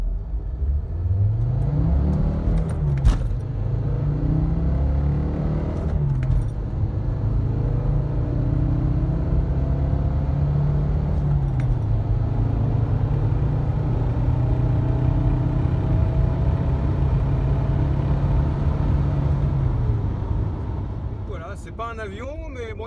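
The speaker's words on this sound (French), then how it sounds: "moi je fais comme ça mes 0 à 100. Première mise, embrayage lâché," A VW Multivan T5 accelerates hard from a standstill to 100 km/h, its engine a loud, steady rumbling drone that rises and falls through gear changes before easing off near the end.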